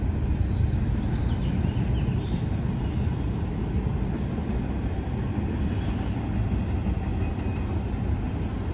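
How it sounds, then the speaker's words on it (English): A Union Pacific freight train rumbles past steadily at Fruitvale, Oakland, California, a deep continuous roar of rolling wagons, loud and unbroken, with no one speaking. "Finally, we got some freight train action."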